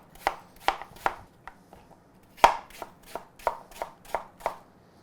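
A knife chops through apples on a cutting board, separating flesh from cores: about a dozen sharp, close knocks in an uneven rhythm, with no talk.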